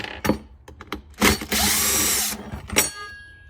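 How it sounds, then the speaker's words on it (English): A power impact drill driving bolts on an ECHO CS-620PW chainsaw whirs in short bursts, then runs in one long sustained rattling spin before stopping, close and fairly loud. "Got the impact drill going here."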